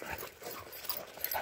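Several beagles dig in a snow hole nearby, with a steady flurry of scratching, scrabbling and snuffling and no talk.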